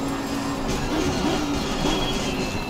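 Audi R8 LMS GT3 race car in the Assetto Corsa Competizione racing game, its engine a continuous dense buzzing drone with a wavering pitch, loud and steady throughout.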